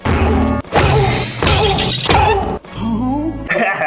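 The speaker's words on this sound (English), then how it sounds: "Just add a cartoon sound effect to make it complete." A cartoon-style smash effect crashes through a comedic review's soundtrack, with loud broadband bursts layered over music and voice.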